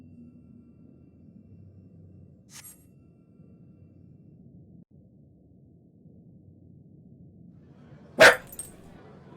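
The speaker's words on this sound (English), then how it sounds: "Sorry about my dog." A pet dog at home gives one sharp, loud bark near the end and a faint, brief yip earlier, over a quiet low hum.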